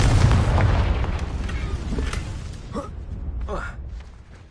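Confringo blasting spell explosion from the Harry Potter world, a loud booming blast at the start that rolls off and fades over several seconds, with a voice heard faintly during the tail.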